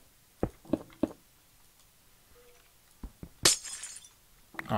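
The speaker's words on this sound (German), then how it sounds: "Es klingt zwar wie zerbrechendes Glas," In Minecraft, a few soft knocks, then a sharp crash of breaking glass with tinkling shards, followed by more thuds; fairly close, no talking.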